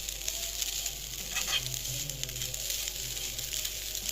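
Masala fries in a pan with a soft, steady sizzle and crackle, quiet and close, with faint stirring sounds and no talking.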